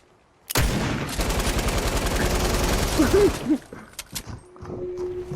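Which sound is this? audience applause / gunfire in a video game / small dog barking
gunfire in a video game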